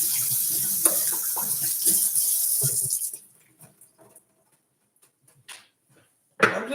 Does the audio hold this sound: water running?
yes